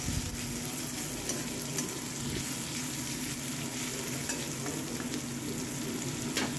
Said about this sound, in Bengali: দিয়ে ভেজে নিচ্ছি পেঁয়াজটা